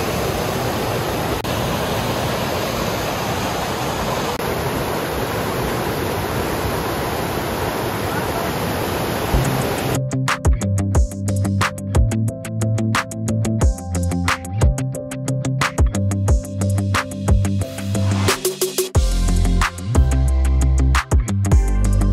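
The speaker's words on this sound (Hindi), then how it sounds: "आबशार देखी और पानी का शोर ना सुना तो फिर आपने आबशार देखी ही नहीं है।" Water roars at the Falls of Braan waterfall in Scotland as a dense, loud wash for about ten seconds before music takes over the rest.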